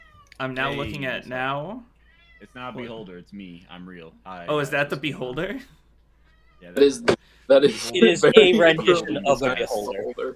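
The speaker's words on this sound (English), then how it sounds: "That's my cat" A pet cat meows and caterwauls insistently to have a window opened on a snowy day, its cries mixed in with ongoing conversation between people.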